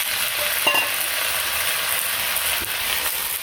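Pointed gourd pieces frying in hot oil with already-fried potatoes in a pan make a loud, continuous sizzle, with a few brief scrapes and clinks of stirring close by and no talking.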